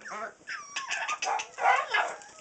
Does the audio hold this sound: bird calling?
yes